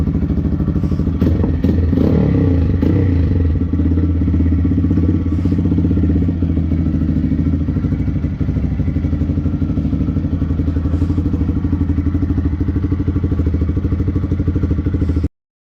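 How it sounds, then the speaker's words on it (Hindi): A TVS Raider 125cc motorcycle fitted with a full Akrapovic exhaust and bend pipe runs loud and close, with a deep throbbing exhaust note, a few early blips of the throttle and then a steady, rumbling idle. "पहले डीपी कलर लगी हुई है उसमें आवाज़ सुनाता है आपको साइलेंसर की"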